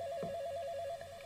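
A desk phone rings in the Summerland video game, its steady electronic ring tone sustained throughout the short moment with a brief bump of other game sound near the start.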